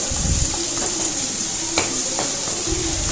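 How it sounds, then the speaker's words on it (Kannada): Chopped onions fry in oil in a pan for an egg curry gravy, giving a steady close sizzle with occasional scraping stirs and a few light utensil taps. "ಈರುಳ್ಳಿಯನ್ನು ಸ್ವಲ್ಪ ನಾವು ಹುರ್ಕೊಂಡ್ರೆ ಸಾಕು"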